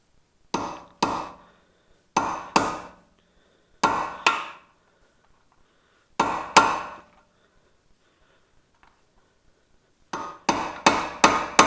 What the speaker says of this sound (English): You can do that with a punch and a hammer.